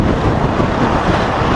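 Strong wind roaring during a bike ride along Manapad beach, a loud constant buffeting rush against the microphone, heard alone.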